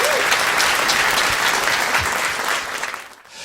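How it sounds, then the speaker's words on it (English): Loud, sustained applause from an evening event audience, dense clapping that holds steady before tapering off at the end. "give a round of applause to them"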